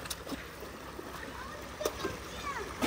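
Clean running water flows through a picnic stream in Shahdara Valley near Islamabad, a steady close wash with small splashes while children and adults talk over it.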